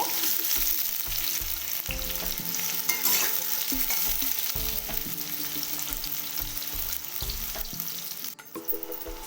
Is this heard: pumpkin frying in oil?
yes